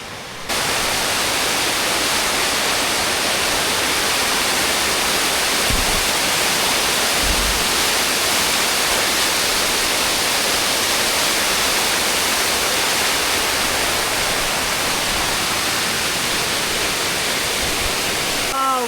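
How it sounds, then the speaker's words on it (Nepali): A waterfall behind an old Japanese house, a loud, steady broadband rush of falling water that fills the scene throughout, with only faint low thumps beneath it. "यो चाहिँ झरना हो हैन झरना कस्तो देखाएको छ हेर्नु"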